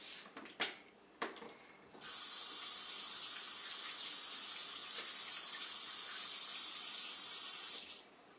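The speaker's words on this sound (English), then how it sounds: "let me wash my hands." A few soft clunks come first, then a kitchen tap runs in a strong, steady stream for about six seconds while hands are washed under it. The flow stops abruptly near the end.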